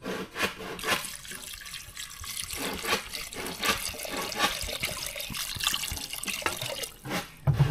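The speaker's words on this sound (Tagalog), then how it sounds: "Tapos lagyan natin ng tubig maya pagka natapos natin" Water is poured steadily from a container into a cooking pot for rice porridge at an outdoor hanging tree house. The splashing runs continuously for several seconds with no talking.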